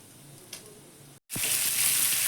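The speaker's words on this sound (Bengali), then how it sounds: "আলতে নুন হলুদ কাশ্মীরি লঙ্কা মাখিয়ে আমি আলুগুলো ভেজে নেব" Potatoes coated with salt, turmeric and Kashmiri chili drop into hot oil in a kadai, and after a brief silence a loud, steady, hissing sizzle surges up, replacing the quieter background crackle that came before.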